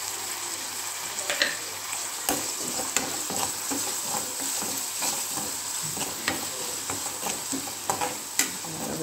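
Vegetables fry with turmeric and salt in a pan for a taro curry, giving a steady close sizzle broken by the repeated scrape and clack of stirring, with no talking.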